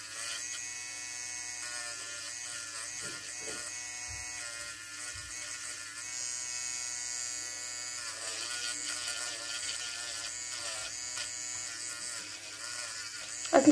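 An electric nail file buzzes steadily at close range with a constant, fine-pitched motor whine, continuing throughout with slight changes in pressure and a brief clatter at the end.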